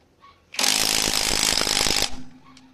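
A budget impact wrench tightens lug nuts on a 2024 Toyota Wigo wheel in one loud, steady burst of rapid hammering lasting about a second and a half, then stops abruptly and leaves a faint hum.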